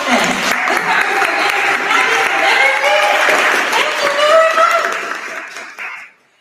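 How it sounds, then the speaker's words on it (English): Loud audience applause and clapping at an evening marketing event on luxury brands, sustained with some cheering voices mixed in, then fading out quickly at the end. "Give yourselves a round of applause."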